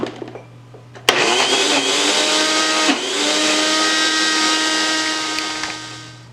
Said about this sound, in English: Close that up and continue blending.